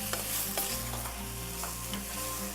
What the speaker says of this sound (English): Let's stir it, give it a good stir.